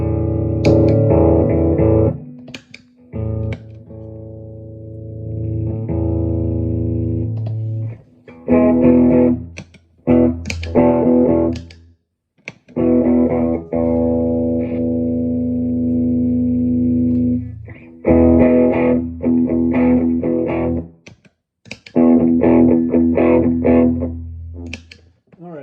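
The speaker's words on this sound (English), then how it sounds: "I'm going to try and make this Marshall Blues Breaker sound like" Overdriven electric guitar through a Marshall Blues Breaker overdrive pedal, strummed chords and ringing notes in repeated loud phrases separated by short pauses, close-miked with no voices.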